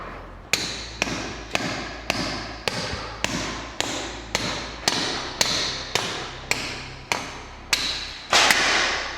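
Anchor bolts are hammered into a concrete floor to mount a car lift, about fifteen sharp, evenly spaced metallic hammer blows, loud and close, with no talking.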